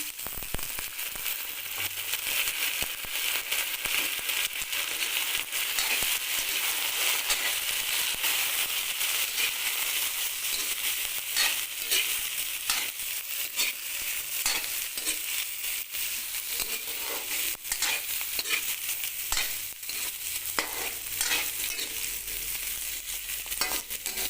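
Pork meat fries in a little oil with browned onions in a pan, producing a loud, constant crackling sizzle with scattered sharper pops, and no voices over it.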